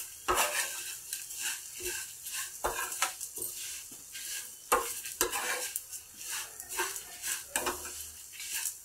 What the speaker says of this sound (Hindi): हमें इन्हें लगातार चलाते हुए भूनना है।